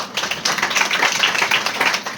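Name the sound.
congregation clapping for people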